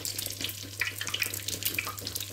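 A torrija, a slice of bread soaked in milk and egg, fries in hot oil with a close, continuous bubbling sizzle and scattered crackling pops, with no talking.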